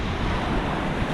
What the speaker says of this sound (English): Got a lot of white water out here, and the wind picked up no end and it's blowing straight into my face